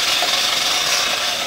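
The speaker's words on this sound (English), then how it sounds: "the nice thing about using a flap wheel is it helps you smooth out any minor imperfections as you go" A flap wheel sands a go-kart fender, producing a loud, steady abrasive whirring hiss that holds constant for the whole moment, close up with no voices.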